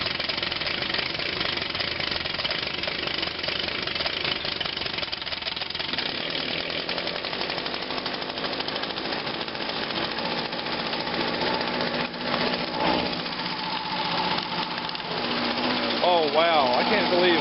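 Echo PB-251 handheld leaf blower running after a cold start at 17 degrees, a steady, loud two-stroke engine drone filling the whole stretch with slight rattle, and a voice briefly heard near the end.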